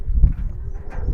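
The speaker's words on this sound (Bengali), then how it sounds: "এটা ভাই মূলত সিলভার কবুতর" Silver pigeons at home give a soft, low, throaty cooing close by, a brief murmuring run with no voices over it.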